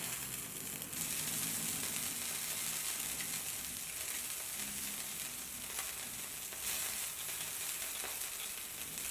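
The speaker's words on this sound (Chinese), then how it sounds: "烤炉加热之后，放上腌制好的鸡腿烤至，将有鸡皮的一面朝下放置" Marinated chicken thighs laid skin-side down on a heated grill, giving a loud continuous hissing sizzle that holds steady at close range for several seconds.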